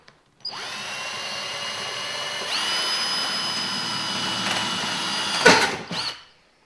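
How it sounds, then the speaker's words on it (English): A battery drill spins up and bores through a car body panel, a steady high whine that rises in pitch partway through, ending with a brief grinding burst as the bit breaks through, then winding down. "First we need to drill just a couple of holes in the panel."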